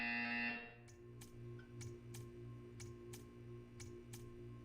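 A loud buzzer sounds briefly at the start in a Portal 2 art-viewing test chamber, then gives way to a steady, evenly spaced ticking over a low mechanical hum.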